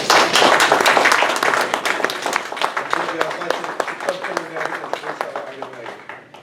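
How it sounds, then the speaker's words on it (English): Applause at a Rotary Club of Hampton Roads gathering, honoring a standing Interact Club leader: dense, loud clapping from a crowd that gradually thins and fades, with some talk mixed in underneath. "give her some applause, guys"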